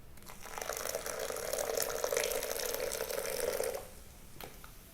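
White vinegar poured from a container into a homemade fabric whitener mixture, a steady splashing trickle lasting a few seconds before stopping, close and fairly clear with no talking.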